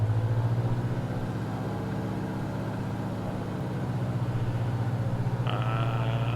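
Simulated light aircraft piston engine in X-Plane, fuel injected, run up with mixture rich toward 1700 RPM, a steady low droning rumble with a harmonic buzz that holds throughout, then a higher tone joins near the end.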